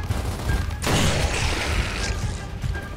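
Gunfire in the video game Gears of War: a loud, sustained burst of rapid shots with crashing impacts, set among rumbling game noise before and after.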